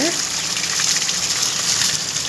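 Freshly picked spinach leaves rinsed in water outdoors in a garden, a steady broad splashing gush running loud and continuous throughout with a faint voice beneath.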